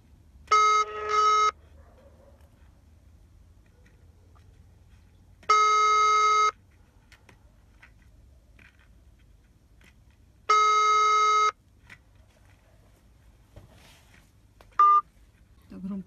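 Telephone dialing tones while calling the police in Kerch: three long, identical tone bursts spaced about five seconds apart, with quiet gaps and a brief final beep.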